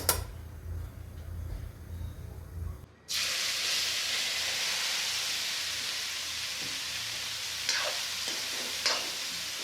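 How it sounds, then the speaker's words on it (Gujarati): Chopped carrots hit hot fat in a pan for sweet carrot halwa and start a loud, steady sizzle that hisses on throughout. A couple of brief scraping stirs break through toward the end, with no voices. "હવે આપણે આમાં ગાજર નાખીશું જે ચોપ કરેલા છે."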